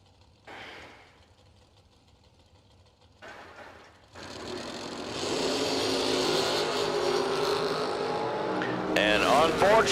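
Drag racing cars, a dragster and a roadster, roar at a drag strip, with two short engine bursts followed by a sustained loud, rising roar under an announcer's voice.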